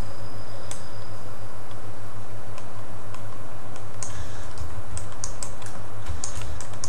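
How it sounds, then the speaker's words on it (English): Keyboard shortcut keys are tapped on a computer keyboard while sculpting in ZBrush 4R6. Irregular clicks and taps, sometimes in quick bursts, sit over a low, steady electrical hum, with no one speaking. "all this time I'm using the keyboard shortcut, which is Q, W,"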